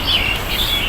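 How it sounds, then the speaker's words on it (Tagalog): Birds chirp in the leafy trees of Kowloon Park in Tsim Sha Tsui, Hong Kong, a steady bright twittering over a constant background hum of the park, close and fairly loud, with no voices. "Maririnig mo talaga ang huni ng ibon."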